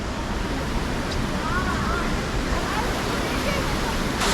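Waterfall in the Wulong Karst, water falling steadily into a pool at the bottom, giving a constant broadband roar that fills the scene without pause.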